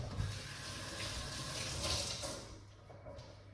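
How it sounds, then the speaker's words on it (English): Beetroot rinsed under running tap water at a sink, a close steady rush of splashing water that fades slightly toward the end, with no speech. "Let's rinse off this."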